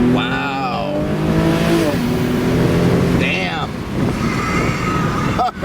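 A 2013 Mercedes-Benz SLK 350 AMG Sport roars through its twin exhaust pipes, loud and close, rising and falling in pitch as it revs and shifts, with a voice heard over the engine.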